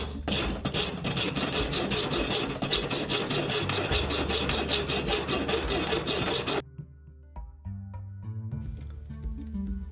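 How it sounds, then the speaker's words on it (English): Hand sawing and sanding rasp the outer edge of a handmade rainbow catch, a dense continuous scraping for most of the clip that stops abruptly, leaving quieter intermittent tool noises and low hum. "continue sawing and sanding the outer perimeter until the desired shape is achieved"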